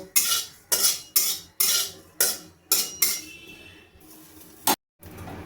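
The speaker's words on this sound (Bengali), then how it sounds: "আমি এই গোটা জিরেটা একটু ভেজে নেব" Rhythmic scraping strokes of a utensil stirring whole cumin seeds dry-roasting in a pan, about eight regular rasping sweeps, close and fairly loud.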